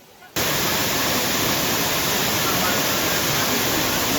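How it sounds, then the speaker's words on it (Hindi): AB Falls, a waterfall in Coorg, pours water in a dense, loud, continuous rush that starts abruptly after a brief quiet moment and then stays constant. "सफेद दूध सा बहता हुआ ये पानी, दोस्तों ये है एबी फॉल्स।"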